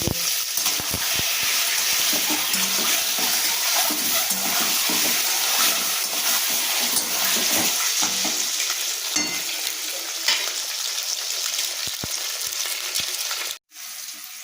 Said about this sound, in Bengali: ডিমটাকে আমি ভেজে তুলে নেব